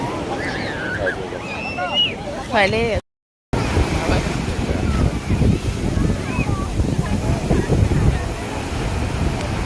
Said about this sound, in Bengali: দেখলাম তো ঢেউটা বড় বড় আছে